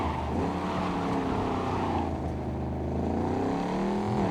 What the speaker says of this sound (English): it just feels more natural when you're trying to do maneuvers with the car